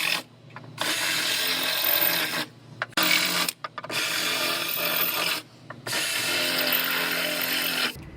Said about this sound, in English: I'm going to drill out the spot welds just through this top layer right here